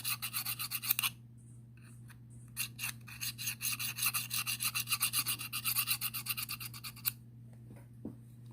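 A knife edge is honed on its rolled side with quick, rhythmic rasping strokes in short bursts, close and fairly quiet over a steady low hum.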